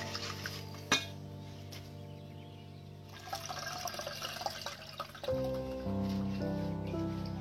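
Masoor lentils being rinsed in water, with splashing, sloshing and a sharp knock near the start, then a steady pour or fill toward the end, close and fairly loud, with no talking.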